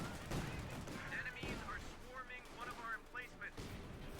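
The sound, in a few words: rifle grenades and gunfire in video game Company of Heroes 2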